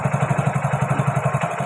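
A Hero Splendor BS6 motorcycle engine idles at around 1270 RPM, its single-cylinder thump pulsing fast and even, close and steady with a constant hum above it and no talking.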